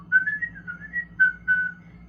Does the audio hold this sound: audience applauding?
no